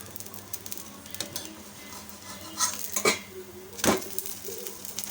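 A spatula scrapes and clinks against a pan while a rice-flake and fenugreek dosa is flipped, giving a few sharp metallic taps and scrapes, the loudest near the end, over a faint sizzle.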